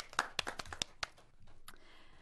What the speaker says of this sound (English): Let's give Mr. LaPelle another round of applause